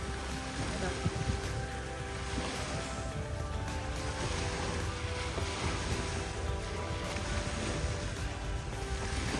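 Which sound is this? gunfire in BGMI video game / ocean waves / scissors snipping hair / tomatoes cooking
ocean waves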